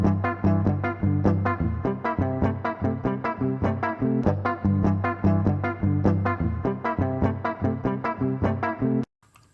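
A guitar plays a shuffle rhythm in triplets, with rhythm parts interlocking. The notes are close and sharply picked in an even, bouncing pattern for about nine seconds, then stop abruptly, with no speech.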